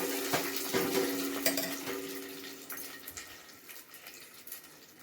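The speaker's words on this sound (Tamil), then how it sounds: "இதை வந்து நல்லா கலக்கி விட்டுருங்க." Curd rice stirred in a vessel, giving soft wet squelches and occasional utensil taps against the metal pot, close and steady with no voices.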